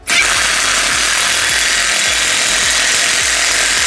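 A power wrench tightens the hub nut on a Jeep Wrangler JK axle during a U-joint replacement, making a loud, continuous rapid rattling hammer that runs unbroken for several seconds up close.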